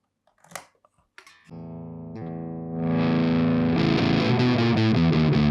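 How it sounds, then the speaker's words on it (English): A vintage guitar amp's bass channel pushed into distortion: a few scratchy pick noises, then sustained distorted chords grow louder and end in a rhythmic chugging pattern. "that's the bass channel. And this is the distortion I don't want."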